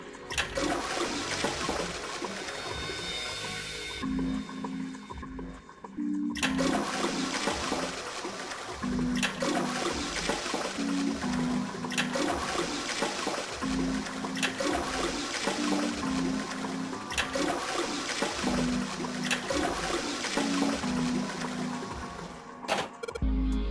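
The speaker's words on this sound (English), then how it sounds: "I heard a loud flushing noise." A loud toilet flush in the video game Zero Escape: Nine Hours, Nine Persons, Nine Doors, a sustained rushing, gurgling roar of water that runs nearly unbroken for over twenty seconds with a repeating mechanical hum beneath it and a brief drop mid-way.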